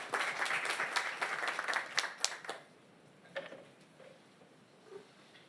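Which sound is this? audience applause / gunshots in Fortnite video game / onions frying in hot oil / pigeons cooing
audience applause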